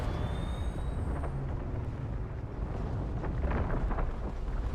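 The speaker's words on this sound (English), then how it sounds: "What is this explosion?" Explosions in the video game Void War roll as a steady, rumbling roar that swells slightly without clear separate blasts.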